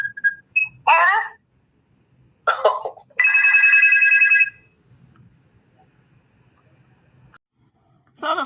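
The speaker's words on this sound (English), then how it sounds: "So the phone keeps ringing." A telephone rings in a series of short electronic trills, then a longer sustained ring, with quiet gaps between bursts and another ring starting at the end; no talk over it.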